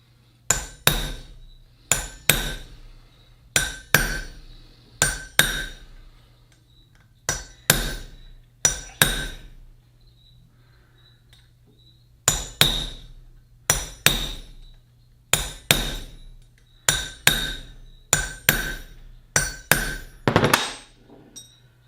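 Hand tool repeatedly striking metal while crimping a jaw harp reed into its frame, sharp metallic taps in quick pairs and clusters with short pauses, close and clear over a low steady hum, no talking.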